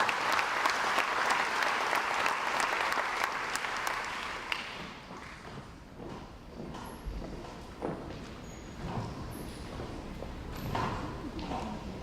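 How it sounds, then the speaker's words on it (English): Audience applause at a school district breakfast event, loud and dense at first, then fading into scattered claps, footsteps and room noise as people step down to their tables. "So please give them one more round of applause"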